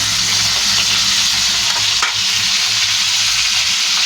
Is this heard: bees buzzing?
no